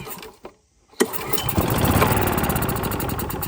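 A Kawasaki GE2900A generator engine coughs, goes quiet briefly, then catches and starts, settling into a steady, fairly smooth running drone that stays loud and close.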